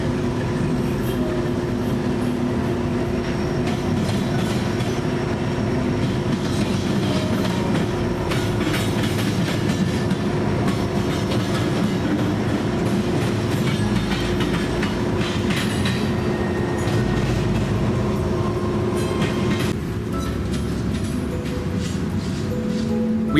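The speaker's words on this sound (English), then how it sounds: "The next train to pass would be a westbound UP intermodal" A heavy Union Pacific intermodal freight train rumbles steadily past with rhythmic wheel clatter and metallic rattling, loud and sustained throughout.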